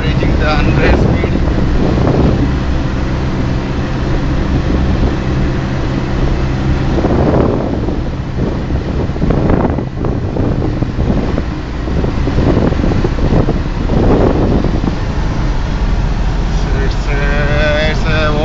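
A Tata Nano car cruises at about 100 km/h on the road from Karimnagar to Warangal. A steady, loud roar of engine and wind fills the whole stretch, and voices talk over it.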